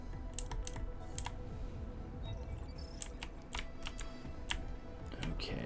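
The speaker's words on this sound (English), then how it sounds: "typing" Fast, irregular clicks of keys on a computer keyboard, fairly quiet and close, with sharp individual strokes over a low steady background hum and no speech.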